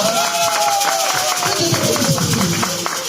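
A church congregation cheering and acclaiming God, loud continuous crowd noise with shouts and scattered clapping under a sustained singing or calling voice.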